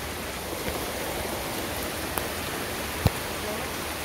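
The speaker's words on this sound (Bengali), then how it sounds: "এনা ভালো বৃষ্টি হইল।" Steady rain pours down in a village, a dense even hiss on every surface with one brief knock partway through and no talking.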